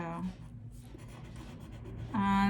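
A marker drags across paper in a classroom art lesson on drawing a snow globe, making soft, close scratchy strokes, and then a voice starts speaking near the end.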